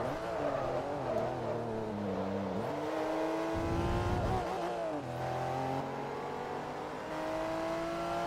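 Porsche race car engine in Forza Motorsport 3, a steady loud drone with rising and falling revs and gear shifts, plus a brief burst of louder roar partway through, over faint background music.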